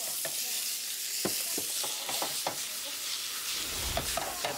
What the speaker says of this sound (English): It's going to stir fry this for a minute or a minute and a half.